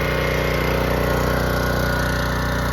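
A small gas engine on a Harbor Freight Predator 3200 PSI pressure washer runs steadily at a constant loud idle, close by, with an even mechanical drone and no talking.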